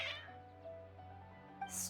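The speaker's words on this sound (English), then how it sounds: "Your cats seem pretty worked up" Agitated cats meowing in Genshin Impact, a few strained, wavering meows against a quiet low hum, with a sharper, louder cry at the very end.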